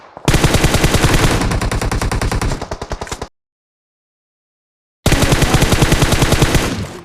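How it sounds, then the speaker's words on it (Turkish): Rapid automatic gunfire from the PUBG Mobile battle royale game on a Redmi Note 9 Pro, a long loud burst of dense shots, a sudden silence of about two seconds, then another sustained loud burst, with no talking. "Başka biri vuruyor. Bana sıkıyor adam."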